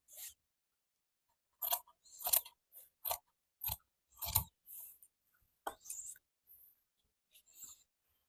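Scissors slicing through pant fabric during tailoring cutting, a series of close, crisp snipping bursts in uneven rhythm with short pauses between cuts, no voices.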